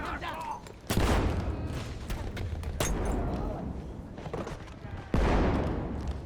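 Dense bursts of Battlefield 1 gunfire boom and crackle continuously, with heavy impacts at intervals, loud and close throughout.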